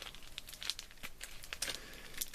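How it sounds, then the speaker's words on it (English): A small plastic bag being crinkled and tugged while someone struggles to open it at a model railway workbench, close crackling rustles in uneven bursts, no speech. "Bloody small plastic bags, you can't get open, can you?"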